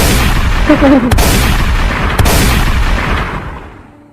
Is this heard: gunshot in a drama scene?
yes